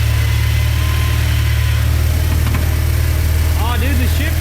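A salvaged car being converted into a street legal race car idles loud and close, with a steady low engine drone and vibration, and a voice briefly heard near the end.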